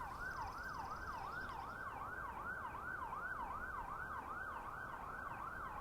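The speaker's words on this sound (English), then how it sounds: "siren." An emergency siren wails in a steady, rapid up-and-down cycle, fairly distant and continuous, with traffic rumble beneath it and no voices.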